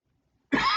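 After half a second of silence, a person coughs once, a sudden, close, harsh burst that rasps on to the end.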